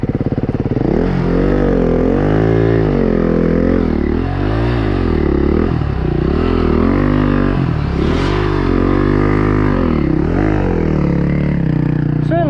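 An enduro motorcycle climbs a rocky creek bed, its engine revving hard and rising and falling in pitch, with rattling and scraping from the rocks. The sound is loud and close throughout.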